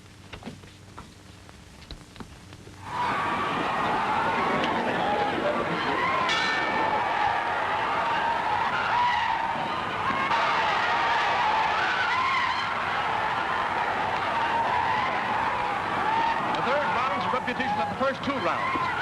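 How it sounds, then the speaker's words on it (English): After a quiet moment a car starts and tears away with tires skidding, a loud, sustained roar and screech that keeps going for about sixteen seconds with voices mixed in. "get that car started and keep it running"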